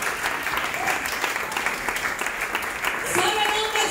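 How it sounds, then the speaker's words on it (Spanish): Church congregation clapping loudly and steadily as praise to the Lord, a continuous wash of hands with voices rising over it toward the end. "Dale un aplauso al Señor."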